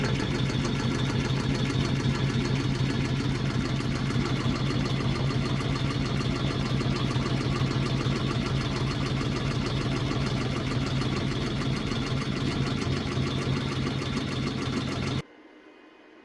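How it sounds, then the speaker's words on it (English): A Redline 1501 embroidery machine stitches down a flag patch with a steady, dense mechanical whir that runs loud and unbroken, then cuts off abruptly near the end. "And now it's just stitching down a stitch to hold it in place."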